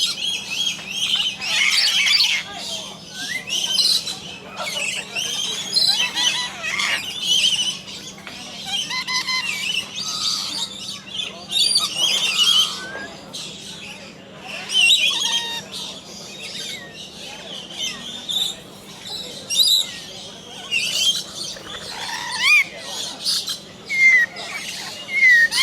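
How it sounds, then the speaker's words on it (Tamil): Lories and parrots call in the Lory Loft aviary at Bird Paradise, Mandai Wildlife Reserve, Singapore, with constant overlapping shrill squawks and chirps, some close and sharp, over a faint low hum. "இந்த இடத்துல எல்லா விதமான கிளிகளும் பார்க்கலாம்."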